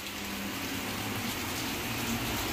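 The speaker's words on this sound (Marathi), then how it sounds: "बाहेर एवढा छान पाऊस पडतोय" Rain falls outside during a monsoon shower, a steady, even hiss of drops continuing without a break and heard alone.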